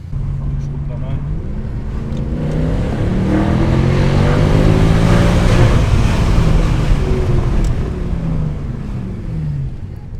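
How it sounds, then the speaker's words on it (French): A Mercedes C63 AMG Pack Performance with a 6.2-litre naturally aspirated V8 rated at 487 horsepower rumbles loudly and close, its note rising and easing, while people talk over it. "Magnifique 6 litres 2 V8 atmosphérique."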